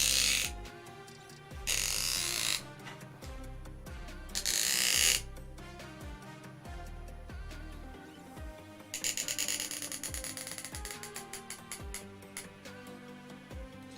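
A screw being driven through fresh material to cut new threads during assembly of a home-built Voron Trident 250 3D printer, heard as repeated ratcheting clicks and creaking turns in bursts, close and fairly loud, with no talking.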